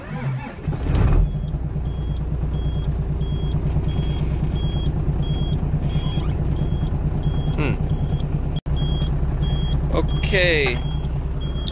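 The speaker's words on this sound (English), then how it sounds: "Get up and start the truck." A 3-ton digger engine cranks and catches, then settles into a steady low idle rumble; high beeping tones and a brief spoken word come through near the end.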